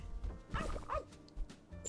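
A dog barks as a sound effect in a cute roguelike deck-building game, with a few short yips and woofs played softly in quick succession.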